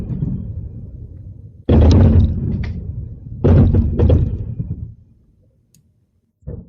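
Series of missile explosions over Lviv during an air raid alert: two loud, heavy booms a couple of seconds apart, each with a rumbling tail, over a low background rumble, then a fainter distant thud near the end.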